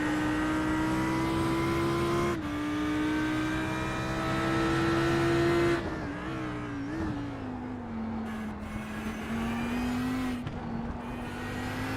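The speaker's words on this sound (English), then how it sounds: "Let's ride on board though with the Team Heiskeveld car as he tries to become the next car to be under 2 minutes" Onboard engine of a GT race car lapping Silverstone in a sim racing game, a loud sustained drone that rises and falls through gear changes and corners, with no voices over it.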